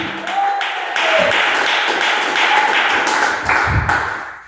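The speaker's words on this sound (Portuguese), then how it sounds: "Palmas para o Senhor Jesus." A church congregation at a Pentecostal service claps steadily for Jesus, a dense, sustained burst of applause filling the hall, with a few heavier thumps near the end.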